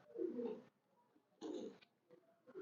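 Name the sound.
pigeon cooing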